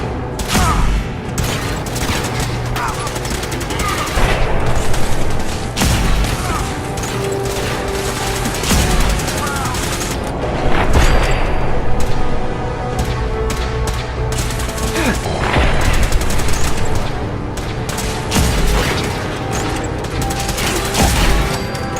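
Gunfire erupts during a battle in Fallout 4, dense and loud, with rapid bursts and booms layered over a continuous clamour of combat noise, while shouted voices break through in places.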